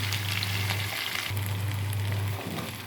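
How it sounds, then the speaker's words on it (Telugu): Cauliflower pieces and onion frying in a pan with salt, a steady close sizzle running throughout with a low hum underneath and no voices. "క్యాలీఫ్లవర్ ముక్కలు కూడా వేసేసాను. ఇప్పుడు 2 కలిసి బాగా వేగుతాయి."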